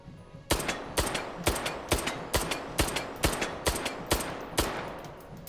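Rapid gunfire in the VR shooter Hot Dogs, Horseshoes & Hand Grenades on HTC Vive: about eleven sharp, loud shots at a steady, even pace, each with a short ringing tail, and no voices.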